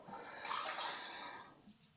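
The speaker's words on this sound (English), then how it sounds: "But this time, I'll put a bit of water in." About a glass of water pours into a cooking pot, a soft continuous splashing rush that swells and then tapers off over a couple of seconds.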